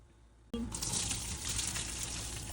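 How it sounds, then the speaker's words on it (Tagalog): Cooked pasta water poured off into a strainer starts suddenly after a moment of quiet, a steady close rushing gush of water splashing into a sink that continues to the end. "So, i-drain na natin to."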